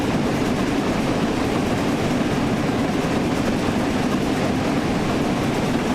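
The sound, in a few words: steam train running in video game Train Sim World 4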